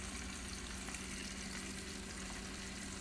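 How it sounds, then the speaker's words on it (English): Potatoes frying in a covered pan over high heat give a steady, even sizzle and crackle that runs unbroken, with no voices over it. "You can hear the potatoes cooking."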